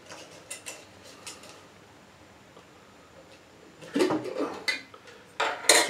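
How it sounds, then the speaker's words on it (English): Pecans strained out of bourbon through a wire strainer, giving quiet metallic clinks and scrapes early on, then a louder burst of clattering and rattling near the end, close by. "Strain out those pecans."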